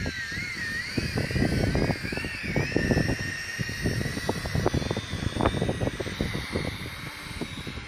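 A Wltech Triphibian quadcopter drone flies overhead and comes down, giving a continuous high, wavering propeller whine over a close bed of rustling, scuffing noise.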